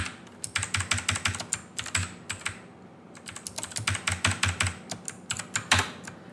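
Close, quiet keystrokes on a computer keyboard come in quick bursts of clicky taps separated by short pauses, with no voices.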